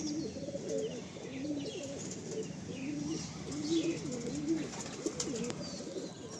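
Pigeons coo steadily inside a loft, a soft repeating chorus of overlapping low calls with a few faint chirps and occasional wing flaps.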